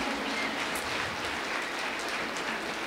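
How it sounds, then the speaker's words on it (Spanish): A church congregation claps and applauds for the King during a united worship gathering, a dense, even wash of many hands, fairly soft and steady for a few seconds. "Dale un aplauso al Rey."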